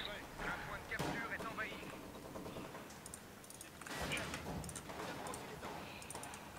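Grenade blast in the game Company of Heroes 2, with sharp booming explosions and battle noise rising and falling amid a busy in-game soundscape, mixed with faint talk and keyboard clatter.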